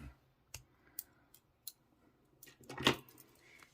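Yarn snipped off a crocheted beanie with scissors after tying off a pom-pom, heard as a few faint, sparse clicks and one louder close snip near the end, in a quiet room.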